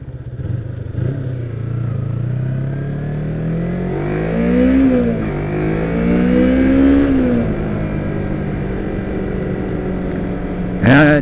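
A 2007 Kawasaki Ninja 250 motorcycle engine is revved up and down at close range, rising and falling in pitch over a steady loud idle, with a sharp spike near the end.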